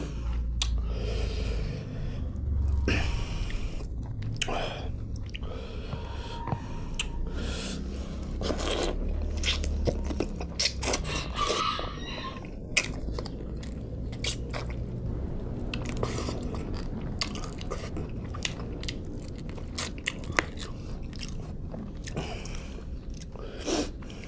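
Crispy boiled chicken wings in fish sauce are bitten and chewed close up, giving steady wet crunching and squishy mastication throughout with no talking.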